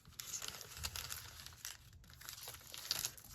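Sheets of paper being torn by hand for a handmade paper bundle journal, a close, dry crinkling and ripping texture running steadily with small crisp peaks, no talking.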